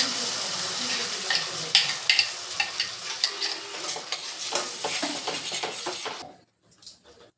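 Egg gravy ingredients sizzle and fry in a pan while a utensil stirs through them, scraping in short irregular strokes. The frying stays steady and close for about six seconds, then cuts away to near silence.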